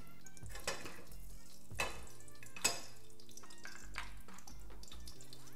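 Egg frying in coconut oil in a pan, with quiet, steady crackle and a few sharp clinks of a utensil against the pan, close by, with no talking.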